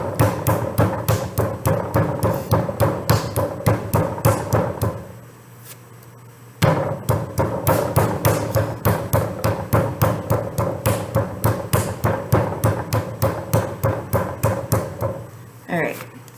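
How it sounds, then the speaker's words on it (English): Rapid, even thumping of a palm pressing and slapping a lump of clay flat on a table for a ceramic cup, dozens of close regular thuds broken by a short pause midway. "Use your palm to flatten it out."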